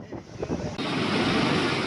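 Heavy rain and gusty wind batter the Bay of Bengal coast at Kalapara, Patuakhali, a dense, roaring wash of noise that swells and stays steady and loud.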